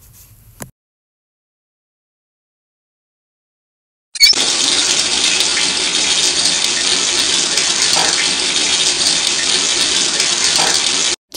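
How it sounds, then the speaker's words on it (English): A water tap is turned on and runs in a strong, steady, close gush for about seven seconds after a long silence, then stops abruptly. "Turn on the water."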